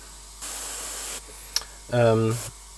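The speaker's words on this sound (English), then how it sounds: "Why do I do it by airbrush and not by hand?" An airbrush sprays paint onto a Warhammer miniature in short bursts of close, bright hissing, two separate sprays with a small click between them, and a voice speaking briefly near the end.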